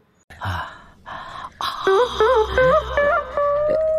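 A man cries out loud, wailing in drawn-out, wavering sobs that start with short gasping bursts and then rise into long, quavering moans, close and alone.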